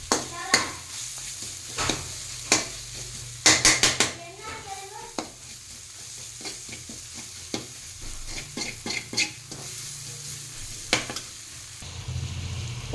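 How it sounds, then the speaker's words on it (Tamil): Meat stir-fried with masala in a pan sizzles steadily while a spoon scrapes and clanks against the metal in repeated bursts, close up, with a brief voice in the background. "கறியை போட்டு நல்லா பெரட்டணும்"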